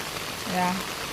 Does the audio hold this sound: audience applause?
no